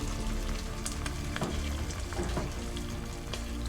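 Canned whole tomatoes cook in a pan and are broken into chunks, giving a steady close sizzle with occasional soft stirring and scraping sounds and no talking.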